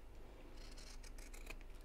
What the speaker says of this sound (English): Now I'm going to trim the seams back a bit here